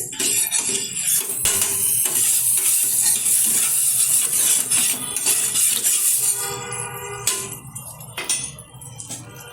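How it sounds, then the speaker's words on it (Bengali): Pav bread fries in butter on a tawa, a busy close sizzle mixed with scraping and clinking of a spatula on the metal, the crackle thinning toward the end, no speech. "পাউটা ভাজার জন্য ওভেনে একটা তাওয়া বসিয়ে দিলাম, দিয়ে দিচ্ছি বাটার।"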